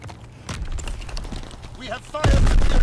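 Gunfire in the Call of Duty WW2 beta, a few sharp shots and a heavy blast bursting over game noise and talk, with the loudest burst near the end.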